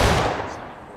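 A single loud, close gunshot rings out in War of Rights, a Civil War–era multiplayer game. It is a sharp blast followed by a decaying echoing tail.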